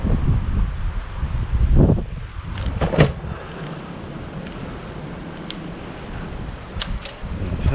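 Steady wind roaring and buffeting past a microphone while cycling with a tote bag on a windy day, continuous broadband rush with a few gusts and faint clicks, no talking.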